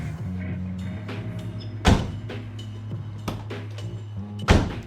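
Upgraded door handle being tested on a Volkswagen Rabbit pickup, with a few sharp mechanical clunks and latch thunks over a steady low hum, close and fairly quiet, no talking.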